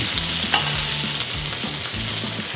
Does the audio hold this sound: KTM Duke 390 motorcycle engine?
no